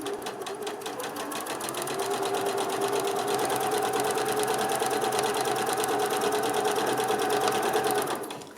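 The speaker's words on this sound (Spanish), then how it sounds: "y me pongo a coser." A sewing machine stitches a baby quilt in a steady, continuous whir with a fast, even needle rhythm, close and alone for the whole stretch.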